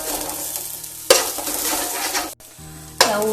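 Onion sautéing with a pinch of salt in a pan sizzles loudly up close, broken by sharp scraping stir strokes and a brief pause before the frying resumes.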